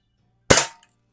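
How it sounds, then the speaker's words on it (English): A stock Crosman spring-piston BB gun fires once, giving a single sharp, loud crack that decays quickly within a fraction of a second, followed by a tiny faint tick and silence. "Pretty good, pretty accurate for a BB gun, for a stock BB gun."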